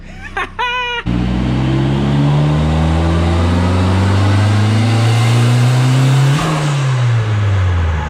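A turbocharged Mazda Miata engine pulls hard on a dyno, rising in a loud sustained rev for several seconds before backing off. It follows a brief burst of rapid mechanical chatter.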